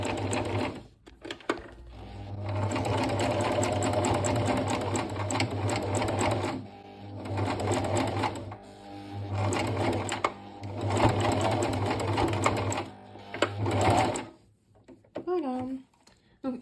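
A sewing machine stitches a small felt mouse pincushion in bursts of rapid, even clatter, running forward and back with short pauses between passes. The machine is close and loud, and a brief rustle follows at the end.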